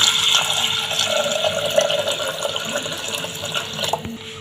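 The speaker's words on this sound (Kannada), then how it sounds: "ಇದು ಕುದಿಯೋಕೆ ಒಂದು ಎರಡು ಗ್ಲಾಸ್ ನೀರು ಹಾಕ್ಬಿಡನ್ರಿ" Water streams into a pressure cooker holding washed wheat, a steady splashing fill sound close by that slowly softens over a few seconds before ending with a faint clink.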